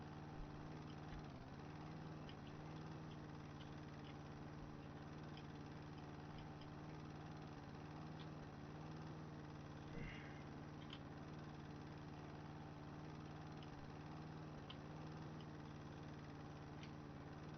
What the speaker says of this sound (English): I might just use the weed whacker in this area.